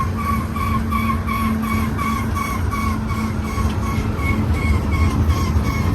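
A BNSF mixed manifest freight train rolls past outdoors, with a steady roar of wheels and rhythmic, repeating clicks and squeals from the cars going by.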